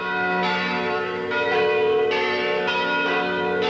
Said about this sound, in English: the sound of those mission bells that day have never left my memory